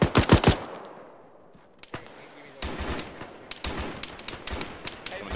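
Sustained automatic gunfire in a video game, suppressing fire from a fire team to the west: dense bursts of rapid shots near the start and after a lull, crackling bursts at middle distance with occasional voices.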